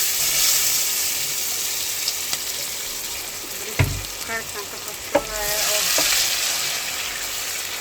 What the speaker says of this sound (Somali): saliida waa ay karkartay hal xab basal weyn aan yar yariis u soo jarjaro